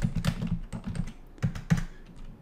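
Quick, uneven keystrokes on a computer keyboard while text is typed into Visual Studio Code, a close run of clicks and taps that briefly pauses and then resumes with a few louder strokes.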